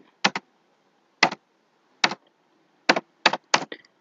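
Separate bursts of computer keyboard typing, each a quick cluster of two or three crisp key clicks, come with pauses of about a second between them in a quiet room.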